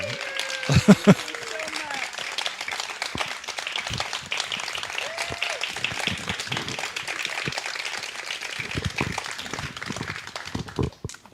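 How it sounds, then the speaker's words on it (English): Church congregation applause at a Sunday service, a sustained patter of many hands clapping at moderate volume after a few louder bumps at the start, then tapering off at the end. "So let's give Dale a round of applause"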